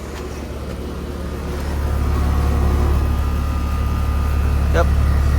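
Carrier Comfort 5-ton heat pump from 2015 running outdoors, its fan motor giving a steady low whooshing hum that swells after the first couple of seconds and holds, with faint background noise.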